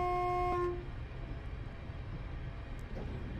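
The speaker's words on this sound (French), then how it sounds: "Toujours klaxonner en sortie de tunnel." A single short horn blast from an SNCF AGC train in Train Simulator on the Perpignan–Cerbère line, loud and close, cutting off into a steady low rumble of the moving train.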